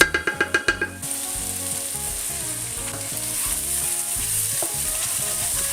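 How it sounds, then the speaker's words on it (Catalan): A mussel sofrito sizzling and being stirred in a hot pan, with a few sharp knocks at the start, then a steady close crackling sizzle with rhythmic stirring scrapes. "Els sofregirem una miqueta, però no massa perquè no es cremi"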